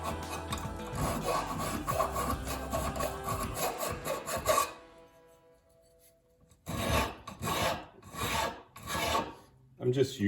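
Metal file rasping burrs off a 1946 Jeep CJ2A shock mount in quick back-and-forth strokes, a steady scraping run, a pause, then more bursts of filing, close and moderately quiet.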